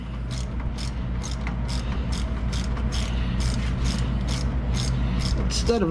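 A ratchet with an 8mm socket loosening a brake bolt on an Indian Chieftain Limited motorcycle, a fast run of evenly spaced clicking bursts, close and loud, over a low steady hum.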